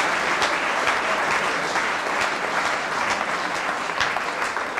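A hall audience at an Ash Wednesday political event applauds continuously, with dense, even clapping and no voices over it.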